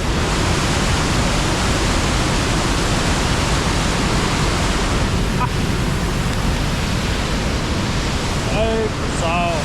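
A waterfall in Wales roars as a dense, steady, close rush of water that fills the whole clip, with a brief voice near the end.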